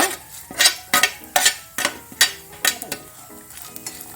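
Cumin seeds crackle and sizzle in hot oil for garlic chutney, with a spoon stirring in a series of sharp, close bursts that gradually fade.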